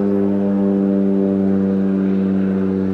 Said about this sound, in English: You'll hear a few planes going by.